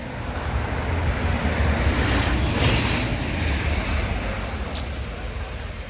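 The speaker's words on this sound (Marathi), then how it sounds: "परत वादली वारा आलेला आहे" Strong gusty wind blowing during a sudden storm with hail, roaring as a steady broadband rush that swells in the middle and stays loud throughout, with no voices.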